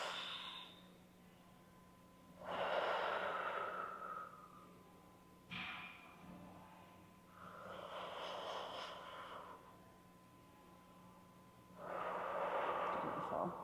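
Deep breathing during an arm extension stretch, four long audible breaths in and out, close and fairly quiet, spaced a few seconds apart with no talk.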